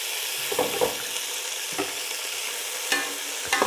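Onions browning in a pot for tomato pulao, a constant bright frying hiss close up, punctuated by a few soft thuds of stirring.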